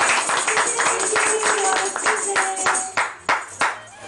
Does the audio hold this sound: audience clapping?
yes